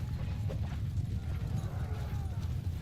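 Horses galloping in a medieval kingdom battle video game, a dense continuous rumble of hooves with scattered clip-clop impacts, loud and steady throughout with no pauses.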